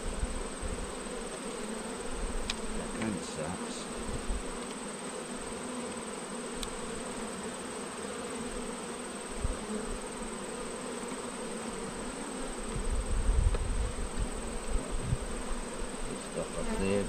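Honeybees buzzing around an opened hive, a steady close drone of many wings continuing throughout, with a person briefly talking over it.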